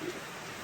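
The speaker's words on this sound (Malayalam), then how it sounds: "ഇപ്പോൾ ഇതാണ് മഴ കുറഞ്ഞു വരുന്നുണ്ട്" Rain eases off into a soft, steady hiss of light drops, quiet and continuous through the very short moment, with no one speaking.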